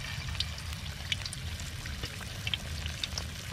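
Pieces of cut fish fry in hot oil for a Chinese-style chilli fish, giving a soft, steady crackling sizzle with small bubbling pops, close but fairly quiet and without speech.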